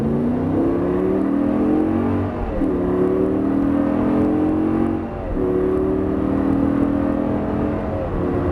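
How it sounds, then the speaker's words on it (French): A car accelerates hard in a steady, loud engine roar heard from inside, with rising pitch through the gears and two brief dips at shift points, no talk. "Là, on peut y aller sur la droite, on accélère fort."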